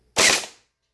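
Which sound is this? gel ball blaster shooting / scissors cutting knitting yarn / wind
gel ball blaster shooting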